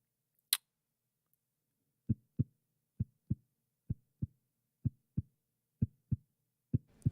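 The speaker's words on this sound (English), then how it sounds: "That's my heart beating." A heartbeat sound effect: soft paired thumps in a steady lub-dub rhythm, about six beats after a single sharp click near the start, quiet and close against near silence, with no talking.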